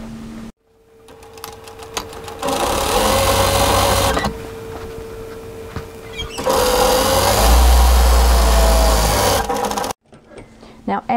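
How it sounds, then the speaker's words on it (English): A sewing machine stitching an apron seam runs in two long, close, steady bursts of fast whirring and clattering, separated by a pause, with a brief back tack near the start. "You must back tack in the beginning to give that some reinforcing for when we turn it."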